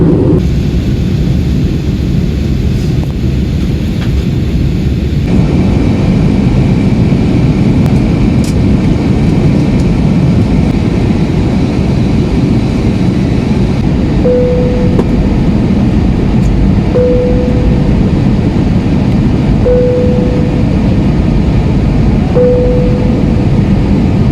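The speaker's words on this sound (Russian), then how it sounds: "наш самолет готов к посадке" Loud, steady cabin drone inside an Airbus A321 in flight fills the whole stretch, with a few soft, evenly spaced tones sounding in the second half.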